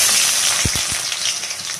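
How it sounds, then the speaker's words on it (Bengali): Finely chopped onions fry in white oil over a low flame, a short burst of bright sizzling hiss with a few soft low knocks near the start, close and alone. "এবং খুব লো ফ্লেমে এটা ভাজতে হবে, নাহলে কিন্তু কালো হয়ে যাবে।"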